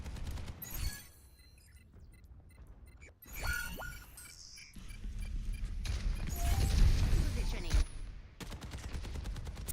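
Gunfire in the Overwatch 2 video game, with bursts of rapid shots and sharp cracks amid busy game effects, pausing briefly before louder sustained firing resumes toward the end.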